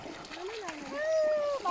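Rainwater floods in and splashes heavily nearby, a busy wet spatter running the whole time while people talk loudly over it.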